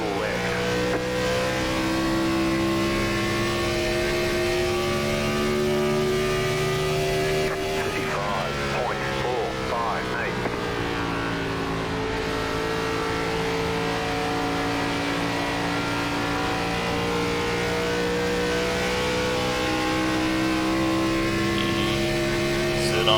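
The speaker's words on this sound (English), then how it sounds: "On up to full throttle" A NASCAR Gen4 race car in iRacing runs at full throttle at Homestead, its engine a steady, loud droning whine holding pitch with a brief shift partway through, and a voice talks over it.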